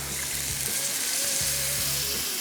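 Ground coriander, cumin, turmeric and red chili fry in a pan. A soft, steady sizzle runs under faint clinks and stirring taps.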